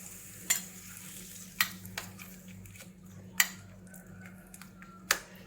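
Mustard seeds and other tempering spices crackle and pop in hot oil for a fenugreek dosa chutney, with sharp scattered bursts over a low, steady sizzle, fairly quiet and close.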